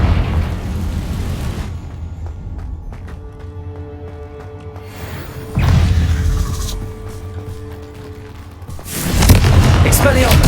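Confringo blast spells burst in Hogwarts Legacy, with three loud booming explosions separated by quieter stretches of rumbling and magical hum. A voice shouts over the action.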